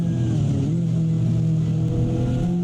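A Corvette race car's engine accelerates hard along a circuit straightaway, a loud, steady, high-revving drone rising slightly in pitch, close and continuous with no talk over it.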